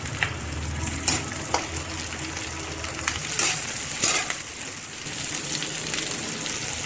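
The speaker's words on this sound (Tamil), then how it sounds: "நெக்ஸ்ட் ஸ்கொயரா வெட்டின கேப்சிகமையும் ஆட் பண்ணி வதக்கிக்கலாம்." Square-cut capsicum and onion sautéing in a pan for chilli chicken, a steady moderate sizzle with occasional clicks of a stirring spoon.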